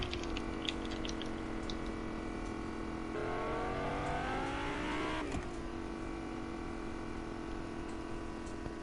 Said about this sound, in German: Julian, geh mal her, das hört sich irgendwie leicht komisch an. Was? Das Auto. Das Auto. Wie eine Kaffeemaschine.